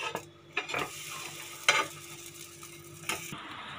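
Dora cake batter cooking in a greased, covered pan and then being flipped, with a soft continuous sizzle broken by a few scraping and stirring clicks of a utensil, close and fairly quiet.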